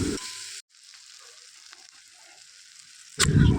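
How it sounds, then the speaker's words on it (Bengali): Onion, garlic, cumin paste and ginger paste sizzle in hot oil, a loud frying hiss at the start that drops to a quieter steady crackle, then bursts loudly again near the end as the mixture is stirred. "এবার সবগুলোকে একসাথে ভালোভাবে কষিয়ে নিচ্ছি"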